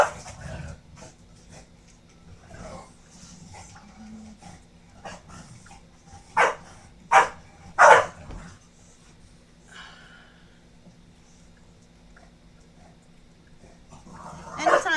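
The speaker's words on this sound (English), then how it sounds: "he doesn't ever have to worry about the dogs being like this, but for some reason, whenever I stream, they have to bark the whole time" Dogs in a home bark in a few sharp, loud bursts clustered together, with snorting, breathing and shuffling noises between them and a faint background hum.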